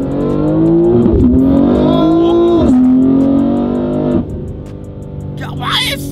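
BMW G80 M3 fitted with downpipes revving hard from inside the car, loud engine pitch rising and falling in several surges before settling; a voice is heard briefly near the end.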